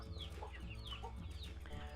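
Chickens clucking on a farmstead, young chicks mixed in with grown hens, a steady overlapping stream of calls close by with no talk.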